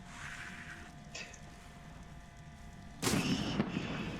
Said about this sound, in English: Yeah, firework.